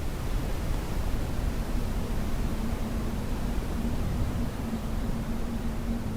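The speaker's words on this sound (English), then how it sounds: "A wave of white noise comes and goes." Steady, dense hiss of broadband noise, unchanging and continuous, with a faint low hum beneath it.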